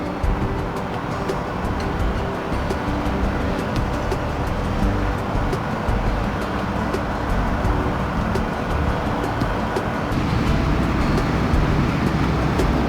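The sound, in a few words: road traffic noise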